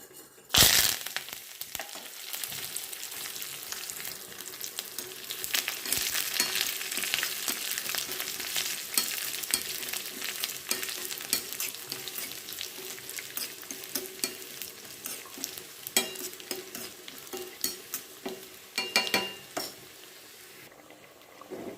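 Mustard seeds, dried red chilli, shallots and curry leaves frying together in hot coconut oil for a Kerala-style veg kurma; a loud, dense crackling sizzle with spluttering pops and stirring lasts over twenty seconds, with no talk.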